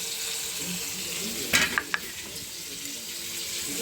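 Ginger, cumin and green chilli masala mixed with turmeric going into a pan of frying pabda fish, a steady oil sizzle broken by a few brief clinks and splashes.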